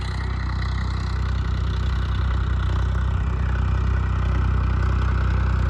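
A tractor engine runs steadily at idle during groundnut sowing in a field, a constant low rumble with a faint clatter throughout, close and unbroken.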